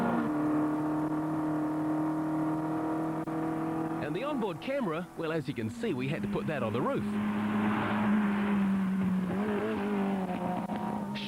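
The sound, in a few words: tiny Abarth Bambina rally car racing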